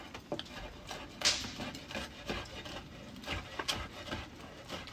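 A knife slices a low-and-slow grilled tomahawk steak into strips, giving repeated close rasping, scraping cuts against a wooden board, with soft knocks between strokes and no talk.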